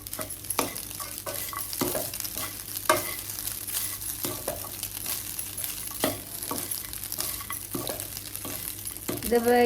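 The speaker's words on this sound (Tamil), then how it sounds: "ஸோ இதை போட்டு இப்போ கிண்டுறேன்" A spoon scraping and stirring coconut rice in a hot pan, with soft sizzling and repeated sharp scrapes against the metal.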